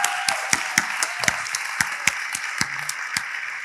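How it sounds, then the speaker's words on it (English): Scattered, sparse clapping from a small audience at a design forum session, a dozen or so separate sharp claps spread over a few seconds, moderately close with a faint background hum and no talking. "Maybe can we get a round of applause for our segment curators,"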